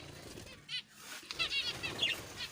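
Birds flapping their wings close by in quick fluttering bursts, with a few faint chirps and outdoor background noise.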